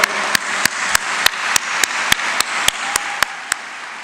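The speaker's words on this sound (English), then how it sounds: "please join me in our collective expression of appreciation and applause to all these wonderful contributors to our community" Steady crowd applause at a university community breakfast honouring staff with over 25 years of service, a dense wash of many hands with sharp louder claps punctuating it at roughly regular intervals throughout.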